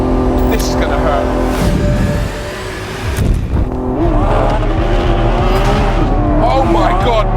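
Lamborghini Aventador SVJ launching hard in thrust mode, its engine roaring loud and close with a brief dip before surging again through rising revs and gear changes.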